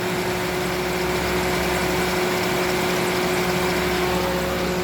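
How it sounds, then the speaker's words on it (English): Idling 2008 Toyota Matrix with its A/C compressor engaged, giving a steady, even engine hum and droning tone that holds unchanged throughout at moderate loudness, with no talking. "the compressor is on right now. You can see it on and running."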